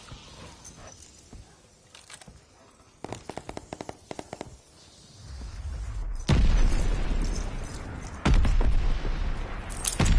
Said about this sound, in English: Enemy shells coming in hot!